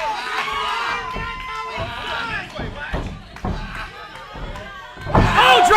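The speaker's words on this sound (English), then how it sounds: "listen to this crowd" An arena crowd at a professional wrestling show roars and cheers, with heavy thuds and slams from the ring, swelling louder in a sudden burst at the end.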